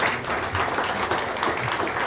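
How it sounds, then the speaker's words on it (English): Audience applause at a Verna industrial event attended by dignitaries, a dense, steady wash of clapping that holds at an even level throughout without any talk. "Big round of applause, please."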